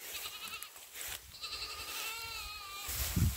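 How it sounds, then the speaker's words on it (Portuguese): Young goats bleating in a fresh green pasture, one wavering bleat standing out over steady outdoor background noise, moderately close. "A gente vai pôr esses cabritos pra cá. Olha lá berrando."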